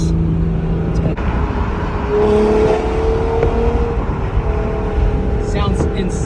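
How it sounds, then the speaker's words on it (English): Acura NSX with a Pride V2 2.5-inch exhaust pulling hard on a freeway, a sustained engine drone and steady road rumble heard from inside the car, with a voice speaking over it. "Let's do this little pull here on the freeway,"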